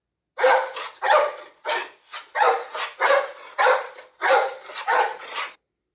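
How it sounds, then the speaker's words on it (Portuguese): A dog barks repeatedly, about ten rough barks in an uneven rhythm, fairly close and clear with no other sounds. "Esse som é bastante diferente do latido do cachorro,"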